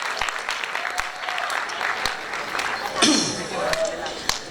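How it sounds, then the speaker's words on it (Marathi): Audience applause at a public gathering: a steady wash of clapping over several seconds, mixed with voices and a few sharper knocks near the end. "त्यांच्यासाठी जोरदार टाळ्या वाजवा"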